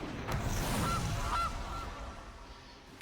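A goose honks as a Goose card is cast in the video game MTG Arena: two or three short, nasal honks close together, moderately faint over a low rumbling game backdrop, with no talk.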